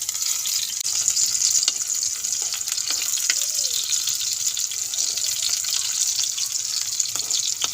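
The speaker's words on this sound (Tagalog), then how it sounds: "Kay init namang oil mga ka-followers, ilunod na to ang bombay og ahos." Chopped onion and garlic frying in hot oil in a home kitchen, a steady broadband sizzle that holds even and close throughout, with a few faint clinks and soft scraping sounds underneath.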